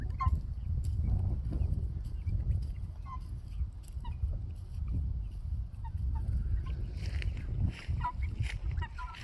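Turkeys and guinea fowl call together outdoors under a shade tree, with scattered squawks and honks over a continuous low rumbling background.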